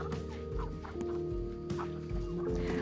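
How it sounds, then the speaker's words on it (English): Poultry in a coop squawking and flapping, startled by a wheelbarrow inside. Loud, close clucks and gobble-like calls overlap, with sharp wing-beat bursts repeating every second or so. "They're squawking and flopping around."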